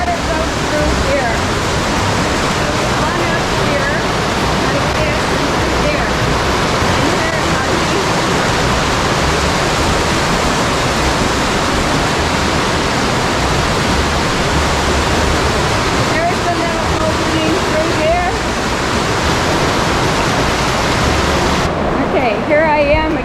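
A waterfall in Crazy Woman Canyon rushes in a loud, constant broadband roar that fills the whole stretch without letup, close by, with no clear talk over it.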